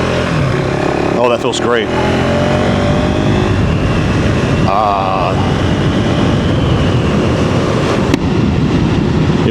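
A KTM 390 Enduro R motorcycle pulls away from idle and accelerates hard, engine loud and close with rising revs and gear changes; a rider speaks briefly over the engine noise.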